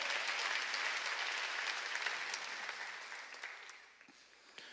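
Church congregation clapping together during a Korean sermon, a dense steady wash of applause that gradually thins and fades toward the end.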